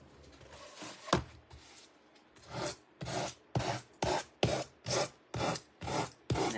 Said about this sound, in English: So let's go ahead and gently sand this off.